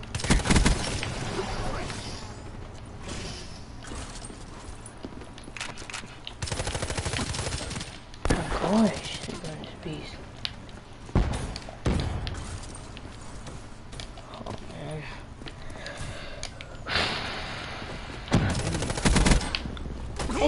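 Rapid bursts of gunfire from the video game GTA 5 crack out in repeated volleys over about twenty seconds, with heavy clusters near the start and end, while players talk faintly in the background.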